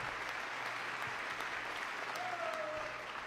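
Steady applause from a large audience fills a chamber during a presidential address to Congress, heard faintly and at a distance as a continuous wash of clapping, with a brief voice near the end.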